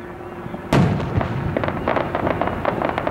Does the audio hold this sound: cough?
no